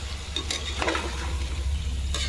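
Potato and chicken curry sizzles steadily in a pan while a spoon stirs and scrapes through it in a few short strokes, with no voices.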